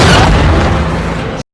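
A tank cannon fires and strikes its target in a scene from the war film Fury, one loud, heavy blast that fills the sound and cuts off abruptly after little more than a second.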